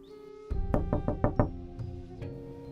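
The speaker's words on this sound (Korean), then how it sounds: "다시 한 번 더 똑똑하고 노크를 하더니 그 속도가 점점 빨라지는 겁니다" Knocks on a door in a horror-story narration, a quick run of about five sharp raps that speed up, then a couple of softer taps, close and clear over a faint tonal background with no talk.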